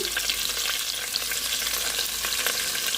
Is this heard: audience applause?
no